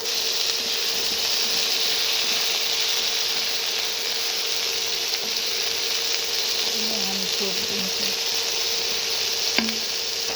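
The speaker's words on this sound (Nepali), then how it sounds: "काटेको आलु र प्याजलाई हामी सँगै भुट्छौँ" Continuous hissing sizzle of potato and onion frying in a pan, steady throughout with a brief utensil clink and a short spoken phrase near the end.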